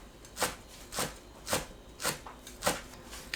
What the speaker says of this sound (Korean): 깻잎은 지저분한 줄기를 손질합니다. 길게 반으로 가르고 곱게 채 썰어주세요.